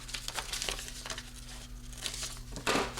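Paper pattern pieces for a pinafore dress rustle and crinkle as they are cut and handled, with soft close crackles and scrapes and a louder crumpling burst near the end.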